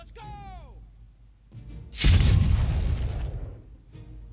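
In Humankind, an atomic bomb is launched with a short descending whistle, then after a brief pause a massive boom erupts and rolls off slowly over about two seconds.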